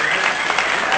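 A brief, loud burst of audience applause greets a guest on a paramedic podcast, a dense clapping wash lasting about a second.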